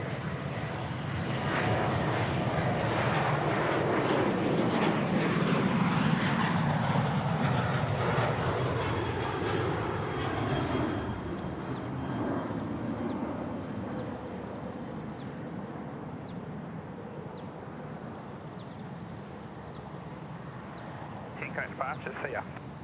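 United airliner arriving at Sydney from San Francisco, a loud jet roar that swells then gradually fades as it passes, with people talking over it.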